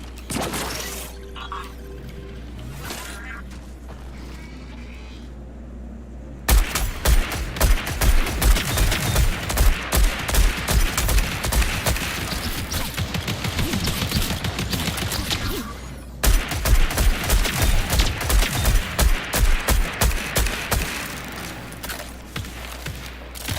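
Rapid automatic gunfire from the shooter game Marathon, long dense bursts of loud shots in a fast steady rhythm with a short pause between them, heavy and close, no talking.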